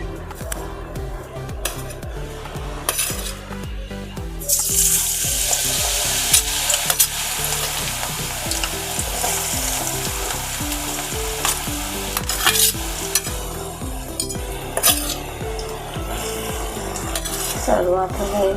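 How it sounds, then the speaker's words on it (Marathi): Garlic, ginger and green chilli frying in hot oil in a kadai for Schezwan chutney, a loud sputtering sizzle that flares up as they go in, with repeated scraping and clinking of a spoon against the pan. "आता आपण ह्यामध्ये लसूण, अद्रक, मिरची हे सगळं टाकून घेऊया."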